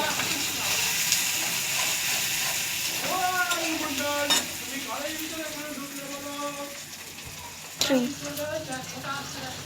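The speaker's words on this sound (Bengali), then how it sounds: "তো আমি টমেটোটা অ্যাড করে দিচ্ছি, একটু লো করে দিচ্ছি।" Tomato goes into a hot pan and fries while being stirred, giving a continuous close sizzle with scraping stir strokes and a couple of sharper clatters, under intermittent speech.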